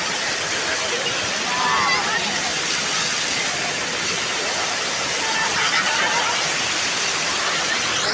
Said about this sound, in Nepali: शान्त सुन्दर झरना एकतालमा झरिरहेको